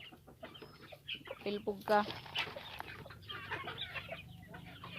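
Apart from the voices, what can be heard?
chickens clucking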